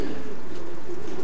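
A racing pigeon gives a single soft, low coo, close and brief, with no talking over it.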